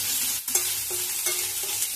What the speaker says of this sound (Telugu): అలాగే కొద్దిగా పసుపును యాడ్ చేసుకొని కాసేపు ఫ్రై చేసుకోవాలి.